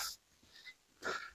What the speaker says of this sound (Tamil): பயங்கரமாக மூச்சு வாங்குது